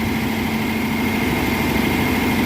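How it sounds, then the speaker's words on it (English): A 1957 Ford Thunderbird engine, off the road for 35 years and fed fresh fuel through its carburetors, idles steadily up close, a loud, even low rumble with a constant hum and no other sounds. "just gonna let it idle, run, whatever this is called."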